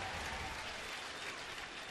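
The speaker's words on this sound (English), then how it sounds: "Round of applause." A baseball crowd applauds a fan's catch in the stands. The clapping is steady and fairly faint, spread out and distant, with a muffled stadium murmur underneath.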